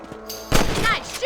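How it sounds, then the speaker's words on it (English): Rifle shots fired while hunting rabbits in the video game Red Dead Redemption, a sharp loud blast midway ringing out, with game voices and sounds around it. "Good shot. That's it. Kill those little varmints."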